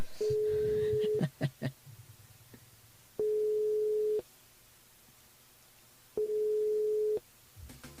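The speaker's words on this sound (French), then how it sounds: "on appelle Anaïs du côté du port" A steady mobile phone ringback tone sounds three times, each about a second long with long silent gaps between, close and clear.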